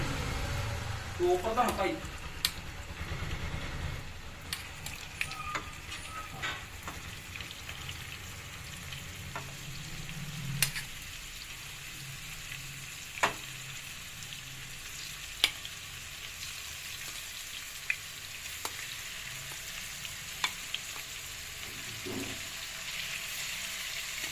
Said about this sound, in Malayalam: ഇത് നല്ലപോലെ വറുത്തെടുക്കണം.